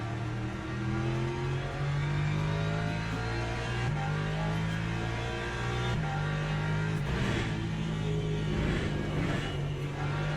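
A race car engine in a video game revs and roars steadily at Bahrain, with pitch shifting up and down as gears change, loud and close throughout.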